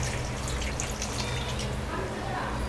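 Water is poured into a cooking pan of ivy gourd curry, giving a steady continuous splashing wash with no distinct drops.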